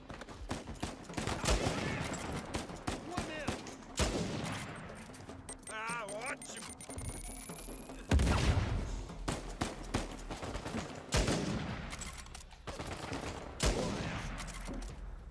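Gunfire in the action video game Uncharted 4: A Thief's End comes in repeated bursts and single shots. It plays throughout at moderate loudness under game sounds and a player talking.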